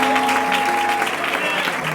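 A church congregation applauding for the Lord during a service, a steady dense wash of clapping that holds evenly for a couple of seconds, with a sustained tone running underneath.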